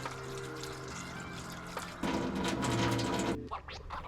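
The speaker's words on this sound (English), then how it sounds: "Rinse away salt and dirt with water." Water runs from a tap over a turban shell being rinsed of salt and dirt, a steady splashing flow that grows louder midway, then cuts off, leaving a few scrapes and handling noises.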